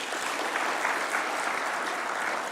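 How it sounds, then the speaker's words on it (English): An audience applauds a young football player, Gaudensia Maloba, with a steady wash of clapping at moderate volume, even and continuous without distinct individual claps. "a round of applause for her"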